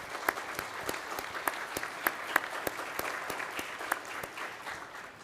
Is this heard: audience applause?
yes